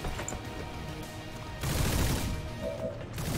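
Sustained volleys of gunfire in the video game XCOM 2, a rattling fusillade that swells louder midway and keeps going, with crashing impacts mixed into the barrage.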